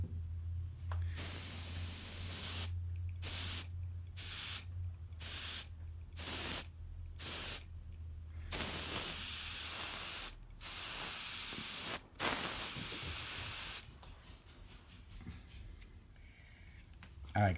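Master G77 fan cap airbrush spraying Createx Illustration paint through a 0.5 needle and nozzle at 38 psi, a steady hiss broken into a series of short bursts, then longer sprays, under a low hum.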